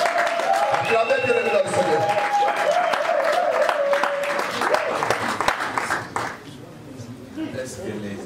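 A wedding congregation at a religious marriage ceremony breaks into sustained applause and cheering, filling the hall steadily under a voice speaking over it, before the clapping thins out toward the end.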